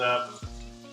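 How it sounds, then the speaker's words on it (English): Oil sizzles steadily as chicken fries in a pan with plenty of oil, a soft crackling frying sound with a short low thump partway through. "it's not really a deep fry, but it is quite a bit of oil in the pan"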